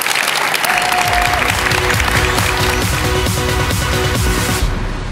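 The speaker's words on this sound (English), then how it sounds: "So guys, please, a round of applause for our panel." Loud, dense applause from an audience at a Paris Games Week panel, with steady clapping filling the whole stretch while music and faint voices sit underneath.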